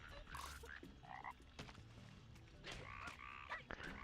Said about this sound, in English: Dispatch another toad.